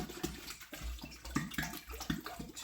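Two gallons of water pour into a container for strawberry wine, a close, steady splashing stream with gurgling pulses, heard alone.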